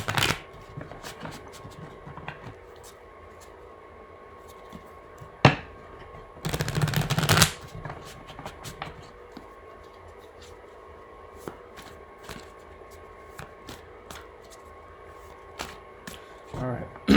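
Tarot cards are shuffled in several quick riffling bursts, one long burst standing out in the middle, with a person speaking around them.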